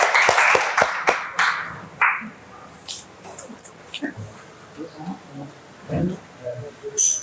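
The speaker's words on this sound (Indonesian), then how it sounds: "kita beri tepuk tangan dulu untuk kelompok 1" Classroom applause for a student group after a presentation, a short burst of claps at the start fading quickly, followed by scattered noise and a voice talking.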